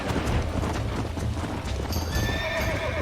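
An unbroken horse in Red Dead Redemption 2 pounds along in quick, continuous clip-clopping hooves, then lets out a loud, shrill whinny near the end.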